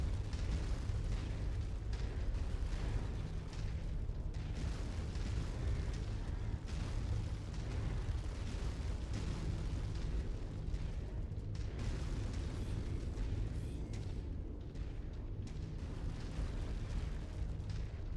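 Weapon fire and explosions rage in the MechWarrior 5 video game, a dense, continuous barrage of heavy booms and blasts with a deep rumbling low end and no pauses.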